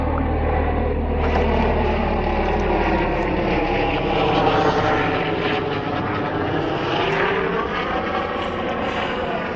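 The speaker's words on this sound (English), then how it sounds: "Helicopter." A helicopter drones steadily overhead, a continuous rumbling roar with shifting pitch that holds throughout.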